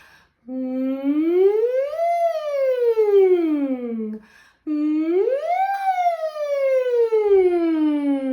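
A voice imitates a siren, sliding up and down in pitch twice in long smooth sweeps with a brief pause between them.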